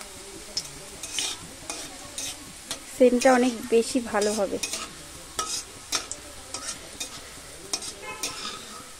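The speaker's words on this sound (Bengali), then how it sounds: "এইভাবে একটু লাল লাল করে ভেজে নিতে হবে রসুনগুলো" Chopped garlic fries in oil in a pan, with a soft crackling sizzle and intermittent stirring scrapes, while someone talks over it up close.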